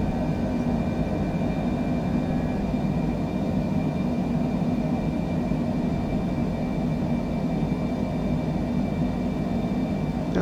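Airplane climbing just after takeoff in Microsoft Flight Simulator, departing Fairbanks, with a steady engine drone and rumbling roar holding level and continuous throughout, without speech.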